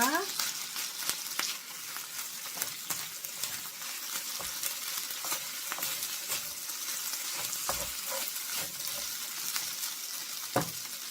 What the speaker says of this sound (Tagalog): Igigisa natin ang kanin.